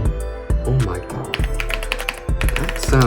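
Rapid, close keystrokes on a brand-new AULA F75 Pro keyboard straight out of the box, crisp clacks in quick bursts with brief pauses between runs.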